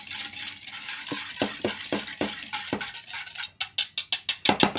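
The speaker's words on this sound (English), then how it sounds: "Just quickly whisk that together." Vinegar, sugar, salt and garlic whisked together in a bowl, faint background at first, then quick rhythmic whisk strokes that speed up into a fast clinking run at the end.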